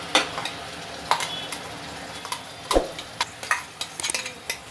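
Tomato and chili paste stirred into a hot pan for dhaba-style spinach dal, giving soft sizzling with repeated scraping strokes of a spoon against the pan, close and fairly quiet, with no talk.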